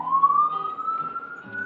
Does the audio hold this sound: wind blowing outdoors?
no